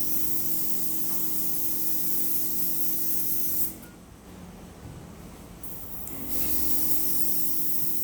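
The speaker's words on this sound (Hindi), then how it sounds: "So now we can see we are applying air brush makeup over here." Airbrush spraying foundation makeup onto a face, a steady loud hiss of fine spray that cuts out briefly midway and then resumes, with no talking.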